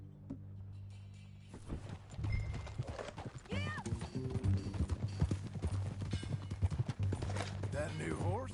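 Horse hooves clip-clop at a steady riding pace in Red Dead Redemption 2, rhythmic and fairly close under in-game dialogue and an occasional whinny.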